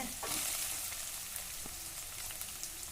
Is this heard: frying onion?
yes